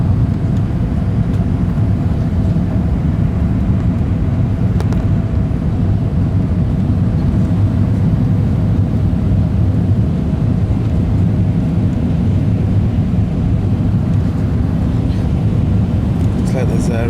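Jetstar Asia Airbus A320 landing at Phuket, Thailand, heard as a steady, loud broadband engine roar and rushing air noise that holds constant throughout, with no distinct events.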